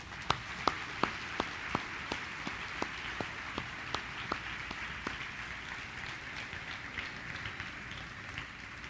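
A church congregation applauding, starting with distinct, evenly spaced claps from a few people that blend into softer, scattered clapping across the room, moderately distant.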